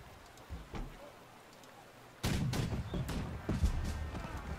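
In the March to Glory battle game, musket volleys crackle after a quiet stretch, a sudden loud burst of overlapping shots followed by several sharp scattered reports against a rumbling battlefield background.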